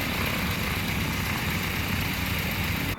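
Steady, loud propeller engine drone of a light airplane in Microsoft Flight Simulator 2024 during a short field takeoff, a constant broadband roar holding evenly throughout before cutting off at the very end.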